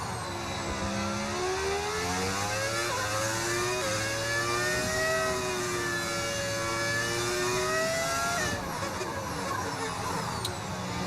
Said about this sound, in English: I love this engine sound